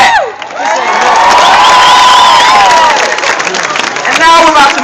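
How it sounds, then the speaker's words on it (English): Loud crowd at a college football torchlight rally cheering, whooping and clapping together, with high shouts rising above a sustained roar close by. "Round of applause for that."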